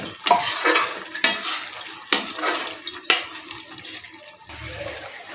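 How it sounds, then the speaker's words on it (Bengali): Giant freshwater prawns, already fried, are stir-fried in a pan with a spatula. Sharp scrapes and clanks come every second or so over a steady low sizzle, close and fairly loud, with no talk. "এর মধ্যেই আমি ভেজে রাখা চিংড়ি মাছগুলো দিয়ে দেব, আরও ভালো করে কষাতে থাকবো।"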